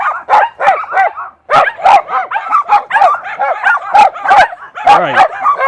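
Several dogs barking and yipping outdoors during an evening walk in Stockbridge, Georgia, a loud, close, steady series of repeated barks with whimpering yips and only brief gaps.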